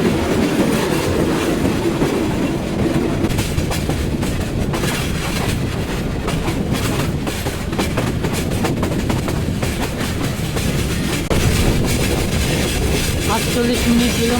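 The Parabat Express runs through hilly country toward Sreemangal, its wheels clattering in a loud, continuous rhythmic rumble heard from on board, steady throughout with brief squeals.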